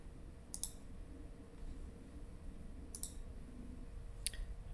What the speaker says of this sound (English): so now I right mouse click on the control flow canvas